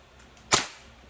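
A single sharp, crisp report from a VFC ISO-556 Maruyama gas blowback airsoft rifle running on green gas, one close, loud crack that decays quickly in an otherwise quiet space.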